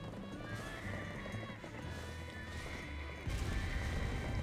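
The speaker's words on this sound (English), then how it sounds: "Do you see the horses, Gar?" Horses in the Black Desert video game whinny and neigh repeatedly, with hoofbeats clopping beneath, then a louder burst of galloping near the end.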